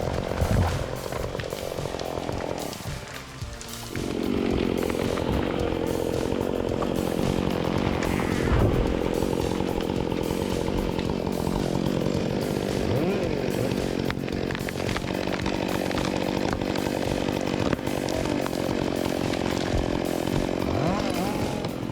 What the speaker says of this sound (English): using a winch and chainsaw to take down a mighty oak